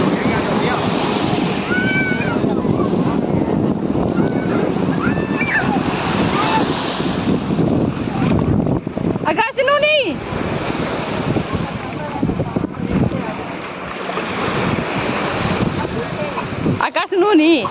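Sea waves and wind on a beach shore roar steadily and loudly, with surf surging and gusts buffeting the microphone, while people talk and shout nearby.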